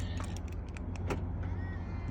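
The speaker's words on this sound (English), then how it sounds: "the mirrors fold in automatically when you lock it" Motorized mirrors on a 2016 Range Rover Evoque folding in on locking, brief whirring and clicking bursts over a low steady vehicle hum, close by and without speech.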